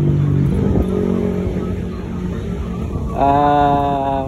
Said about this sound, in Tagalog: Mitsubishi ano to? Mirage G4. Mirage G4 to.